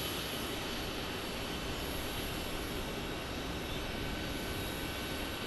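An Airbus A321neo jet passes at an airport with a continuous, even engine rush and a thin high whine over it, moderately distant and alone.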